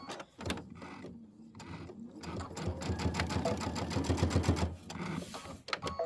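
Sewing machine stitching quilt top sections for a winter quilt, with a rapid mechanical whir and needle chatter that starts, pauses and runs steadily, loud and close, with a brief stop before a final burst.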